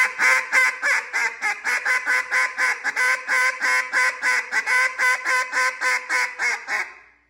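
A hand-blown duck call sounds a long hail call: about twenty loud, evenly spaced quacks in a steady rhythm that trails off at the end, with no talking.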